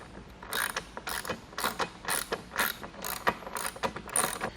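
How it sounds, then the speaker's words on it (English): A 10mm socket ratchet tightens lock nuts while fitting a Thule HideAway awning, giving quick bursts of crisp, close clicking repeated about ten times in a steady back-and-forth rhythm. "we're just going to switch to our 10mm socket and tighten down all 4 lock nuts"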